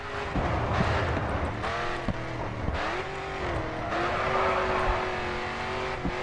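A race car in GRID 2 roars at close range as it slows for a corner, its engine note dipping and shifting as it brakes, with brief tyre scrubs and no talk over it.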